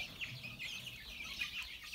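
Chickens cluck in a grassy enclosure beside a flock of other birds, giving a steady, moderately close chatter of short calls with no talk over it.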